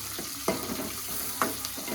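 Onions fry in a pan toward golden brown with a steady sizzle, while a utensil stirs them twice and gives two sharp scrapes, close and moderately loud.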